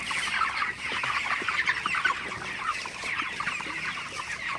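Several 30-day-old broiler chickens cluck and murmur continuously nearby at night, a busy, overlapping chorus of soft calls with no talking.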